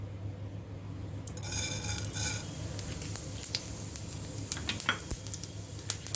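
Cumin seeds hit hot mustard oil in a pan and burst into a close, crackling sizzle that keeps spitting and popping with a few scraping stirs.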